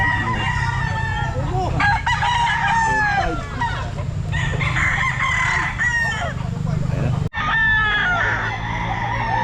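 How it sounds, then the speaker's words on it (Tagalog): Capons and roosters crow loudly and repeatedly at a busy pet market, several birds overlapping in rising, drawn-out calls with clucking between, over a constant crowd murmur and occasional nearby voices. "Kapong manok."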